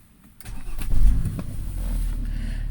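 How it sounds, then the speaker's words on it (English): Engine of a 2011 BMW X5 cranking and catching, then settling into a steady low idle; close and fairly loud, no voices. "let's start the engine."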